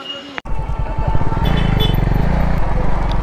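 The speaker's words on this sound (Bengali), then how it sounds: "এই সেই অটো, এটা দিয়ে যাচ্ছে" An auto rickshaw drives past on a road near a waiting motorbike. After a brief click, its engine rumbles in loud and close with a fast, throbbing pulse that holds steady.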